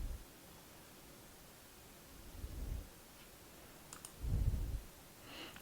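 Soft, faint mouse clicks at a computer, a few scattered single taps with quiet rustling between them, heard alone with no talking.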